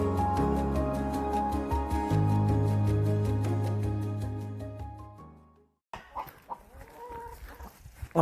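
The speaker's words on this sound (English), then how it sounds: "Why are you making all that racket? What are you doing? Have you just laid an egg?" A hen clucks loudly after laying an egg on a French farmhouse garden property, a run of rhythmic squawks that fades, then a pause before scattered nearer clucks return.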